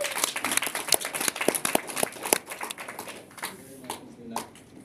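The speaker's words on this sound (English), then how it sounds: "So give a round of applause to Ishan." At a DevFest KL 2016 tech conference keynote, an audience claps in a brisk round of applause for a collaborator, dense at first and then thinning out as scattered claps trail off.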